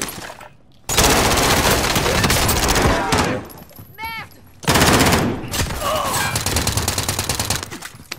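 Bursts of automatic gunfire in a battle royale video game, loud and sustained across two long volleys with a short lull between, while players talk over the shooting.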